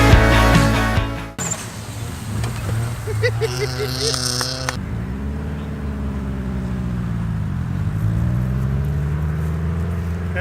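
A Porsche Turbo S passes at a car dealership, its engine sound rising and sweeping by, with a brief loud burst at the start and steady road noise as it fades.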